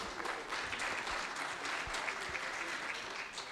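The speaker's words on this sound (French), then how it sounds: "Madame Leïla Belkhiria Jebr, sous vos applaudissements aussi, merci" Steady audience applause at a conference on public employment services and entrepreneurship in Tunisia, dense clapping from a crowd with no voices over it.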